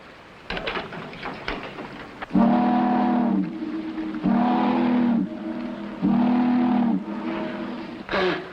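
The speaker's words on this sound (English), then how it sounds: "I'm going to get 3 loud blasts on the whistle." Three long, deep riverboat whistle blasts sound at even intervals, each holding steady for about a second, after some brief clattering.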